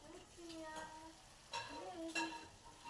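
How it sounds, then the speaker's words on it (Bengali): Chopped tomatoes fry with spices in a pan for a rohu fish curry, a soft continuous sizzle broken by a couple of louder stirring scrapes. "টমেটোটাকেও ভালো করে মশলার সাথে কিন্তু কষিয়ে নিতে হবে।"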